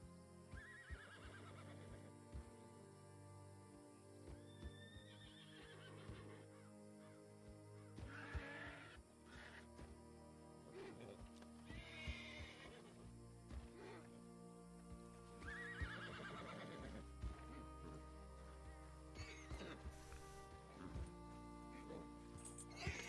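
A horse neighs and whinnies several times over background music in a Red Dead roleplay video game, with hoof clip-clops mixed in.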